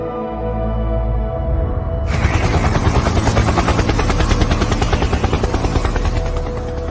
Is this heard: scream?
no